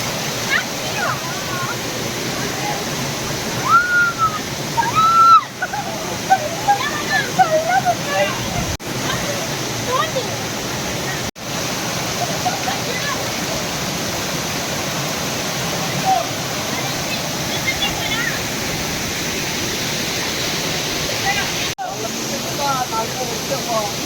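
Talakona waterfall roars as a continuous broadband rush of falling water, loud and close, with splashes and people's voices mixed in at times.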